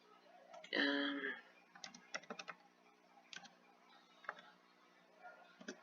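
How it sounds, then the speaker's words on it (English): Email address being typed on a computer keyboard: scattered, close key clicks in short bursts with pauses between, preceded by a brief louder tonal noise near the start. "you type in the email address that you want"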